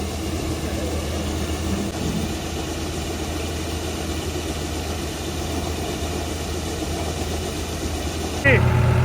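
A Swaraj 3602 tractor engine runs steadily in first gear, a low, even diesel drone that holds close and constant throughout, with a brief voice near the end.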